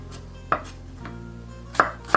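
A knife finely chops garlic on a board: a handful of sharp, separate chops close by, spaced unevenly, with quiet between them.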